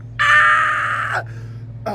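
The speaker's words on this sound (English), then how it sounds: "A scream maybe a little too closely to the microphone." A woman on a podcast lets out one sustained, piercing scream right against the microphone, loud and close, ending in a short cry after a brief pause.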